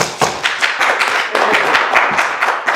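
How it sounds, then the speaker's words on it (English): A small live-show audience claps in a short burst, a handful of distinct, close hand claps in a loose, uneven rhythm. "And another round of applause for his mustache."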